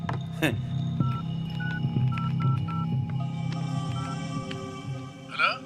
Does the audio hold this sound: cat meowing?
no